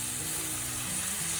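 Broken-up tofu frying in a pan for carrot, beans and tofu fried rice, a steady close hiss of sizzling oil with faint scraping, continuous through the moment with no talk.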